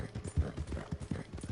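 A horse gallops in Red Dead Redemption 2, its quick rhythmic hoofbeats thudding close and moderately loud in a short burst.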